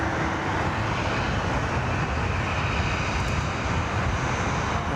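Qantas passenger aircraft departing Sydney Airport, its engines a loud, steady jet roar heard from nearby without a break.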